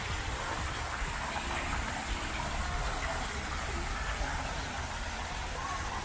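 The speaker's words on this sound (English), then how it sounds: "So relaxing. The sound of water." Steady running water fills a rainforest setting, a continuous broadband wash of flowing water close by with no distinct splashes, alone without talk.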